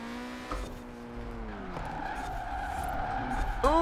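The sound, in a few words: rear-wheel drive car drifting in video game Forza Horizon 4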